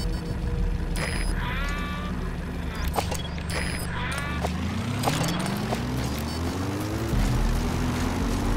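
Enemy gunship aircraft in the video game Metal Gear Solid V, a steady propeller drone with rising engine tones building toward the end, joined by brief electronic beeps and game effects.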